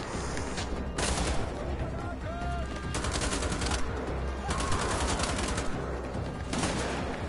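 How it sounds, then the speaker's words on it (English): Dense, continuous gunfire from Wolfenstein: The Old Blood, a World War II shooter, with bursts of rapid shots layered over a constant roar of battle noise, loud and steady throughout, a few brief tonal game sounds mixed in. "Shoot the Nazis, Blazkowicz!"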